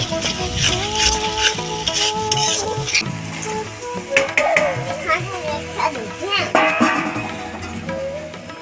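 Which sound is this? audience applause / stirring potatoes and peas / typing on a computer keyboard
stirring potatoes and peas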